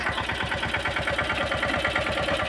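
A small mini tractor engine running steadily in a peanut field, a close, loud, rapid rhythmic chugging that stays constant throughout with no voices.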